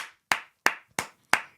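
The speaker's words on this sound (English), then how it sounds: "give a round of applause to everybody out there who has a garage" Four sharp, evenly spaced hand claps ring out one after another at a close distance, each a crisp isolated smack with a short decay.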